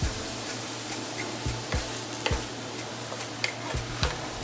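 Shrimp and onions cooking in a pan for shrimp cauliflower rice, a steady close sizzle with occasional scraping taps of a utensil stirring.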